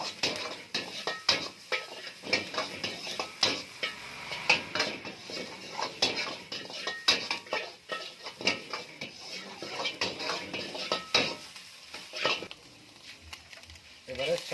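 Onion, garlic and green chilli stirred in a pan, with busy close clinking and scraping of a metal utensil on the pan in an irregular rhythm, faint sizzle underneath and a voice talking intermittently over it.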